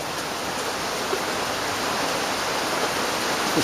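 Steady rain falling outdoors as a dense, even hiss, loud and continuous with no pauses or voices.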